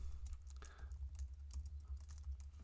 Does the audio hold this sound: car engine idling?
no